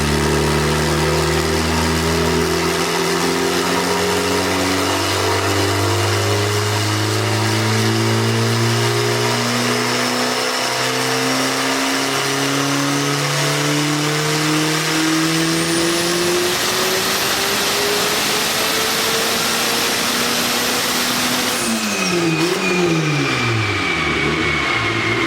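A 300 hp Honda Civic wagon engine revs up hard, pitch climbing steadily through the gears with a rising whine, then drops off and burbles as it decelerates.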